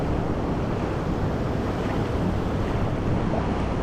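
Ocean surf washing onto a Philippine shoreline at low tide, a steady broadband roar of breaking waves with wind noise buffeting the microphone, no voices.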